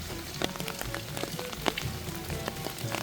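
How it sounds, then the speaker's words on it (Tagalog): Steady rain falls in Korea, its patter dense and continuous with scattered sharper drops hitting nearby surfaces. "panayang ulan"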